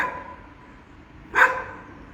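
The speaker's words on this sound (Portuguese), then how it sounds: "agora tem um cachorro aqui que está latindo" A single short dog bark rings out at a distance, faint against a quiet background hum.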